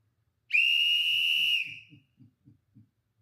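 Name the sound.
whistle blown by speaker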